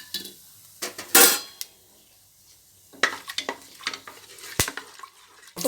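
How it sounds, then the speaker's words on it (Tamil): Whole cinnamon, cloves and cardamom drop into hot oil in a cooker for a jackfruit biryani, with a sharp burst of spitting followed by intermittent metallic clinks and a light sizzle, no talking. "எண்ணெய் காஞ்சிடுச்சு பட்டை கிராம்பு ஏலக்காய் போட்டுருவேன்"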